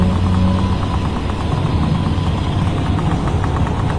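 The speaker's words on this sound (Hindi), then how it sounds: "तभी वहां से एक पुराना ट्रक गुजरता है" An old truck in a cartoon passes by with a loud, steady rumbling engine and a rough, knocking low drone that holds throughout.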